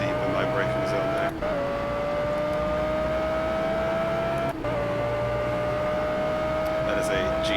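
An Aston Martin GT4 race car in the Project Cars racing game holds a loud, steady high engine whine, dropping sharply at two gear shifts and climbing again, heard alone with no talk over it.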